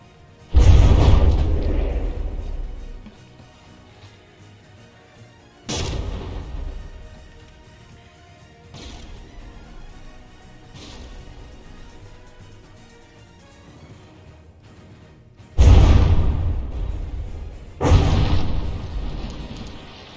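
Warship artillery in the From the Depths naval battle game during a battleship tournament match, several heavy booms and blasts a few seconds apart, each decaying into a rumbling tail, with quieter stretches between them.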